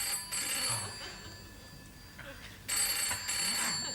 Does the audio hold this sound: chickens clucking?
no